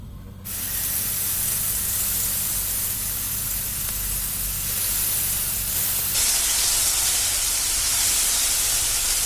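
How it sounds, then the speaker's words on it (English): Onion, ginger and garlic paste hits hot mustard oil in a pan, setting off a loud, steady hissing sizzle that starts abruptly and continues without a break. "Around 3 to 4 teaspoons you can add onion, ginger, garlic paste."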